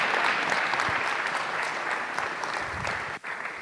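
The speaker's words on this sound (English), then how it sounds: "Give them a round of applause." A workshop audience gives a sustained round of applause, dense and even, holding steady for several seconds before breaking off abruptly near the end.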